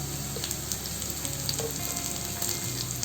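Chopped small onions and curry leaves sautéing in hot oil, with a steady close sizzle and faint clicks of stirring throughout.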